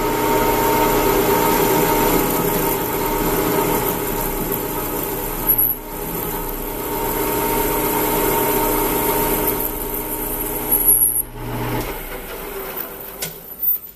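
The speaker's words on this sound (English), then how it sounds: "I'm going to make a 200 thousandths plunge cut next" Metal lathe taking a 200-thousandths plunge cut, a steady mechanical whine and hum with a low drone, briefly dipping twice as the cut changes, then winding down at the end; no talking.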